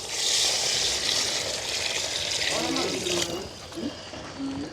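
Water steadily poured into rice for a vegetable biryani in a village kitchen, a close, continuous splashing stream that stops partway through, after which a voice is heard speaking.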